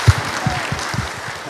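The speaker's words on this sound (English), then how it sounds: "I think you should clap" Audience at a Gen Z church conference, a few scattered, distinct claps in a loose rhythm over a low room murmur, fairly sparse rather than full applause.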